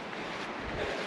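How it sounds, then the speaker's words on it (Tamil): Waterfall rushing close by along a mountain trek toward Khatling Glacier in Uttarkashi, heard as a steady, dense broadband roar of falling water with no voices. "பக்கத்தில் அருவி கொட்டுற மாதிரி சவுண்டு கேட்குது"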